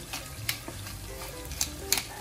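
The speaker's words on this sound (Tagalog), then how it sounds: "Kasi daw, kapag niluluto ito ay pumuputok-putok." Pork lungs, heart and liver for Kapampangan bopis frying in a pan, a steady sizzle broken by a few sharp pops and crackles spaced out over the moment.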